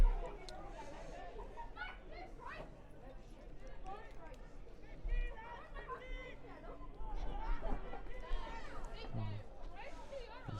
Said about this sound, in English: So there's a good old crowd here today.